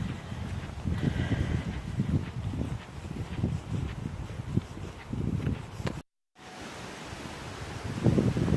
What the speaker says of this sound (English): it's now got quite windy. And I just love the sound in the trees.